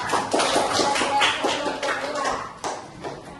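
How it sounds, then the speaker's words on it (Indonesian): Classroom group clapping for the second group of students after a Quran recitation lesson, irregular close hand claps and taps mixed with a voice talking over them. "tepuk tangan untuk kelompok dua dulu"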